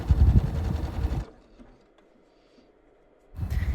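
A sewing machine runs a 3-step top stitch around the edge of a fleece winter cap, a steady close whirring burst that stops, leaves a quiet pause, then starts up again.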